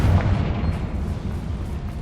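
A Confringo spell blast in Hogwarts Legacy gives a deep rumbling boom that rolls and fades over two seconds.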